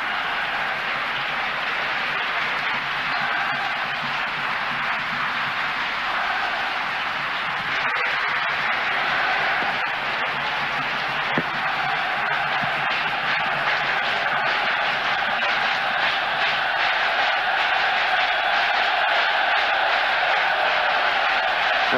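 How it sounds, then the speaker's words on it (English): A football stadium crowd at a 1988 Belgium versus Ireland European qualifier rumbles in a broad, steady roar that swells slightly toward the end, distant and continuous, with no distinct claps or chants standing out. "And the crowd beginning to get behind the Belgians now."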